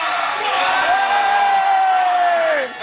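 A group of people posing for a photo shout together in one sustained, loud collective yell lasting a couple of seconds, with a rising whoop-like tone carried over the crowd noise before it cuts off.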